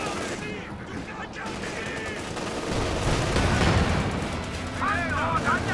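Anti-tank guns in Company of Heroes 2 fire in a dense barrage of shots and blasts that swells toward the end, with a commentator talking over the battle.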